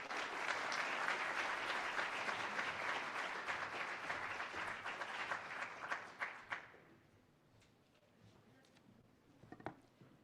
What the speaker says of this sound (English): Please join me in another round of applause for Assistant Secretary of War, Joseph Himar